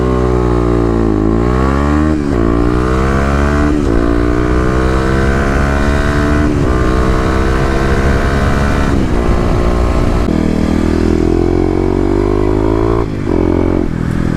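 A Kawasaki KLX250 dual-sport motorcycle, running an EJK fuel controller, accelerates hard. The engine climbs through the gears in repeated rising revs, with brief drops at each shift, loud and close throughout.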